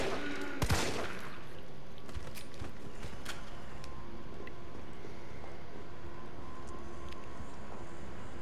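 Gunfire in Resident Evil 3 Remake: one sharp, loud shot near the start rings out against a steady low game ambience, with faint scattered impacts after.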